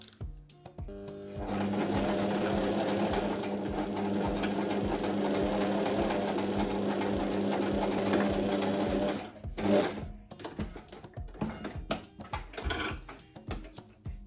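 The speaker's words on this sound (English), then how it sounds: "we're gonna sew this to the piece now" A sewing machine stitches contrast trim onto a summer dress piece, running steadily and close for about eight seconds before stopping, followed by scattered handling clicks and rustles.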